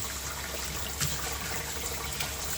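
Running sink water splashes and trickles as small dishes and utensils are rinsed, a steady close wash of water with a couple of brief clinks.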